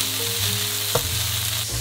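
Yuzu pepper chicken pieces pan-frying, an even, close sizzle of oil, with a single sharp tap near the middle and a soft musical tone beneath.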